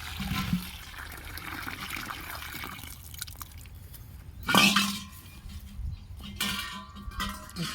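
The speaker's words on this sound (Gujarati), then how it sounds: "પાણી નાખી દે, પાણી વધ્યું છે." Water is poured out outdoors on a cotton farm, with splashing and trickling that comes and goes, including one louder gush in the middle and a few clinks of a metal vessel.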